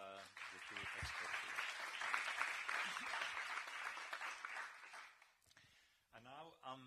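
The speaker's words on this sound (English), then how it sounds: "Maybe a round of applause for the two experts." Modest applause from attendees at an info session in Brussels swells for a few seconds and fades. A speaker's voice comes just before it and again as it dies away.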